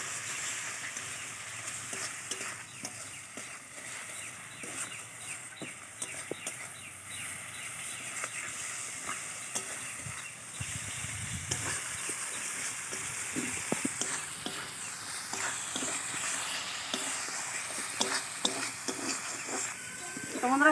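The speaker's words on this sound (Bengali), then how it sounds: "মশলাটাকে বন্ধুরা ভালোভাবে কষিয়ে নেব।" Spice masala with salt being sautéed and stirred in a pan for a village-style green jackfruit and potato curry, a soft continuous sizzle with scattered scraping stir clicks, fairly faint, with light talk at times.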